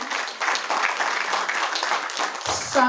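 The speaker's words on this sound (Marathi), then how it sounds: "मंडळी टाळ्या होऊ देत" Audience applause at a book launch ceremony honouring the families of brave soldiers, a dense, steady wash of clapping that carries loud throughout and swells slightly at the end.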